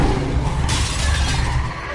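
Glass shatters in a dense, crackling burst while a wolf bites enemies in the video game The Wolf Among Us, loud and close for about two seconds with no talking.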